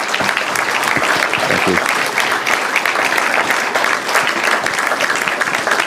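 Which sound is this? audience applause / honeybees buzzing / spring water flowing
audience applause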